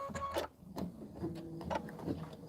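Home embroidery machine sewing a placement stitch, a soft rhythmic whirring and ticking of the needle and carriage, faint and steady, repeating in short cycles.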